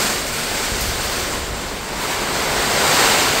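Heavy rain and strong typhoon wind pour down beside a house bordering rice fields, a loud dense roar that swells and buffets steadily with no voices.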